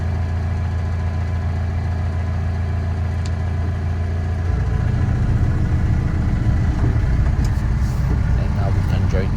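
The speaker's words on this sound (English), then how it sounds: "Let those vehicles go by." Engine rumble from road vehicles passing close by a Mahindra Roxor: a steady drone, then louder, rougher engine noise partway through as traffic goes by, with speech faintly present.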